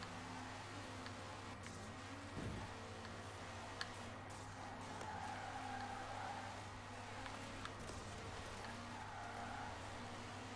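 A Subaru Impreza WRX STI with all-wheel drive drifts on the dirt Derwentwater Trail in Forza Horizon 4. A faint, steady engine drone carries light tire scrub throughout, with a few brief ticks.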